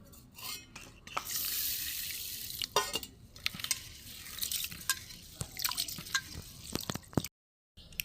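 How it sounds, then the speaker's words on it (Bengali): Gobindobhog rice being washed by hand in a bowl of water, with close, irregular sloshing, dripping and squishing sounds throughout and no talking. "চালটাকে আমি ভালো করে পরিষ্কার করে ধুয়ে নেব প্রথমে"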